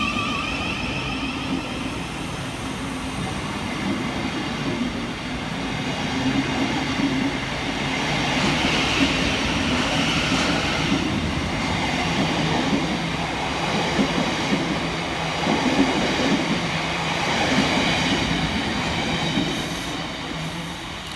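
Two coupled Southeastern Class 707 electric units, 707 003 and 707 022, at Ladywell station: a steady electric whine and rolling rumble that swells as the train passes, with light wheel squeal and no voices.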